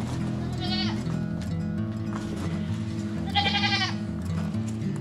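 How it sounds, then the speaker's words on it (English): Two bleats from a goat, one early and a louder one near the end, over steady low background noise and faint voices. "Oh, yeah, Gigi Hugger Bear, he's a hugging goat."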